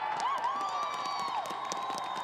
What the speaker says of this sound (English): the fans have something to cheer about here